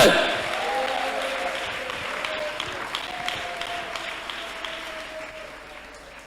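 A church congregation claps hands together at a Pentecostal prayer service, a steady dense wash of applause filling the room from start to finish while a voice carries over it.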